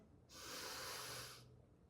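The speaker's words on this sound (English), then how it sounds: "Deep breath in" A single deep breath drawn in during a vinyasa yoga flow, a soft, airy hiss that rises, holds for about a second and fades, close and quiet with no talking.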